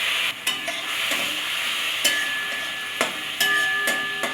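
Turmeric, grated ginger and tomato paste fry in oil in a pan, with a steady close sizzle and several sharp scrapes and clanks as a spoon stirs them.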